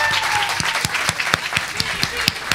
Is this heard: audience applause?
yes